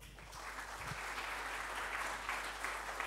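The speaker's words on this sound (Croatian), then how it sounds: "Aplauz za Voraza." Applause from the audience fills the hall after Ivan Voras's conference talk on the state of open-source cloud at DORS/CLUC 2012. It is a steady, dense wash of many clapping hands, heard at a moderate distance and continuous throughout.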